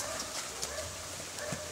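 Horse hooves clip-clop on the ground from a strong, tall, muscular young stallion in early training, with several light, evenly paced clops faintly under steady background noise.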